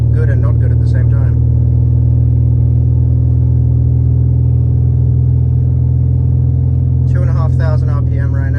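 A turbocharged BMW E46 drones at a steady, loud engine tone while driving, holding near-constant revs with a deep low hum, and voices talk briefly near the start and again near the end.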